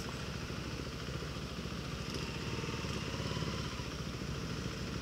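A motorcycle is ridden through traffic, its engine droning steadily up close with a rough, continuous throb and faint clatter, and no talking.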